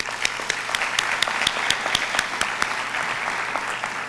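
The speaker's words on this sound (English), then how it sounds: "Give yourselves a round of applause." An audience at a Detroit press conference applauds continuously, with dense overlapping hand claps holding a steady, fairly loud level throughout.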